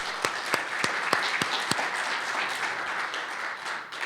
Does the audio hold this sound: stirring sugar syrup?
no